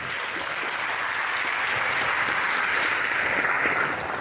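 Applause from a crowd of participants and staff at a Jakarta high school event, continuous dense clapping at an even level throughout, moderately close, with no talking over it.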